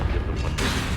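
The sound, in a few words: Bombarda and Confringo spell blasts, Hogwarts Legacy video game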